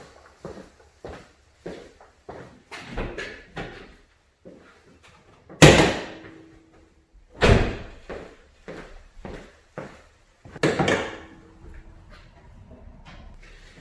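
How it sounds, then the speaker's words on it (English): Someone working at the front of a Saturn SC1 car and raising its hood, a series of clunks, latch clicks and metallic knocks, with two heavy slam-like thuds in the middle and no talking. "Let me open up the hood and I can get you in closer"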